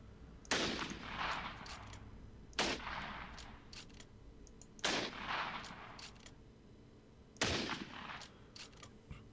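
Gewehr 98 (G98) bolt-action rifle firing in an Arma 3 World War II mod, four loud sharp shots spaced about two seconds apart, each followed by a fading echo and bolt clatter.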